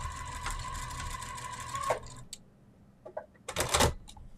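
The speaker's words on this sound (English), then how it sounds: "I'm going to sew" Sewing machine stitching ribbon onto a Christmas table runner, running in a steady close burst for about two seconds, then short clicks and handling noises of fabric and ribbon.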